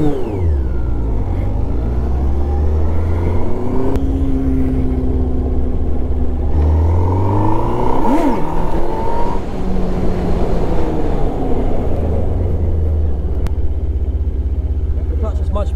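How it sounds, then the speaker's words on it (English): A Yamaha FZS 600 Fazer motorcycle engine rises and falls through repeated revs during wheelie training between cones, with mid-pitched revving sweeps under a rumbling idle and occasional talk nearby. "What I'd like to do now is increase your gas between the cones."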